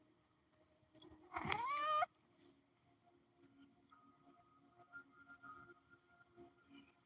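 One loud, drawn-out meow from a pet cat at home, about half a second long and rising in pitch. A quieter stretch follows with a faint hum and soft rustling.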